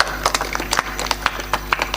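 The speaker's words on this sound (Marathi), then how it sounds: "वाजवा टाळी." An audience claps during a Marathi comedy kirtan. Brisk, fairly even hand claps repeat several times a second over a steady low hum, with no crowd voices.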